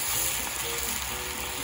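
Mushrooms stir-frying in a hot pan for a chickpea kale bowl, giving a steady, dense sizzle that holds close and loud throughout, with low scraping rumbles beneath and no voices.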